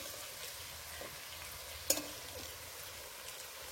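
Potatoes and jackfruit cook down in a pan with a soft, low sizzle and the occasional scrape of stirring, including one sharp clink, all fairly quiet with no voices.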